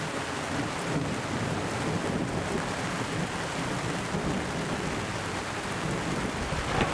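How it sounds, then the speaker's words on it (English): Heavy rain pours steadily at a spring camp in Montana during a thunderstorm, a dense continuous hiss with low rumbling thunder underneath, loud and unbroken. "Rain just started coming on us, and it's coming down pretty good, lightning all around us."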